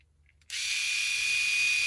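Small electric men's beard shaver with LED LCD display switching on after a short quiet pause and then running with a steady, high-pitched buzzing whir, close and alone.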